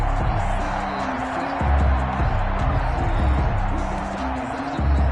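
A stadium crowd in a PS4 American football video game, a continuous roaring murmur with low swells, running steadily under the game's noise.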